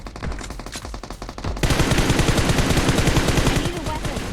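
Rapid gunfire from PUBG Mobile on a Minecraft-style Bedwars map: a few scattered shots, then loud, dense automatic bursts that run unbroken to the end, with voices faintly under them.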